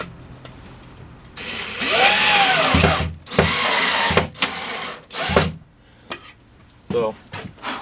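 A power drill drives a screw during a furnace transfer switch install, whirring in several short bursts, its pitch rising and falling as it drives in, with quiet pauses and brief clatter between runs.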